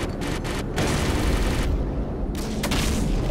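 Heavy gunfire from an AC-130 gunship in Call of Duty: Modern Warfare 2, a loud continuous barrage of booming cannon and rapid shots with no pauses.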